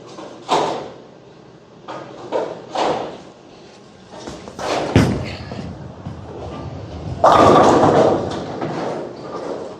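A Motiv Apex Jackal bowling ball is thrown down an oiled lane in a bowling alley, with several separate knocking impacts and then a louder crash of the ball striking the pins near the end.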